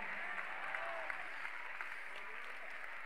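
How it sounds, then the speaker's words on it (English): Church congregation clapping hands during a sermon, a steady dense wash of applause holding throughout, moderately distant with faint crowd murmur underneath. "I need you to clap your hands and just say,"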